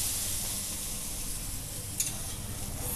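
An omelette fries in a pan with a steady broad sizzle and hiss, a soft knock marking the flip partway through, no talk.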